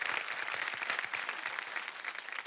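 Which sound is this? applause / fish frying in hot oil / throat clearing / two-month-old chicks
applause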